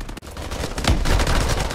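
Dense, loud gunfire and explosions from a sniping match in Call of Duty Advanced Warfare, a continuous burst of shots and booms filling the whole moment.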